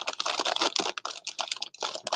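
Fast, crisp clatter of keys on a tactical-looking computer keyboard, close and alone, with irregular bursts of keystrokes and a brief pause partway through.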